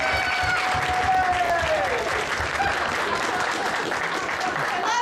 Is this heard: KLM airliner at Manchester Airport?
no